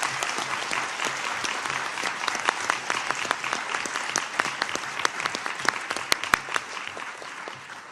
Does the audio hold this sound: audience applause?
yes